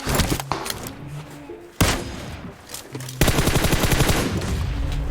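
Bursts of automatic gunfire in PUBG Mobile crackle close and loud, with rapid shots in short volleys and a longer sustained burst toward the end.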